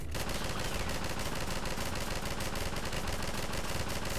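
Rapid, sustained gunfire from the co-op video game Synergy, a dense continuous burst of automatic shots loud and close throughout, with no talking.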